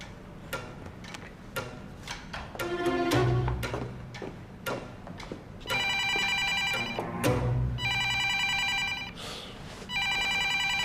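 A telephone rings in an indoor drama scene with repeated bright electronic ringtone bursts. Soft ticking and clatter come first, and there is no speech.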